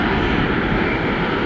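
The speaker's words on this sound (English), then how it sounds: "747. This guy is going to Amsterdam." A Boeing 747 jet airliner passes at Atlanta Hartsfield airport, its engines giving a loud, steady broadband roar that holds constant and close with no break.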